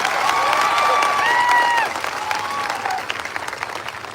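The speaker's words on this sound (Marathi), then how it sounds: "टाळ्या जोरात झाल्या पाहिजे, टाळ्या जोरात." A student crowd at a protest keeps up loud, continuous clapping while a high-pitched voice or whistle-like tone rises over it early and then fades, leaving the applause alone.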